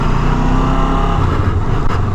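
A Kawasaki ER6N 650 cc motorcycle engine running loud and close, a continuous throaty drone that holds fairly steady with a slight lift in revs, no speech over it.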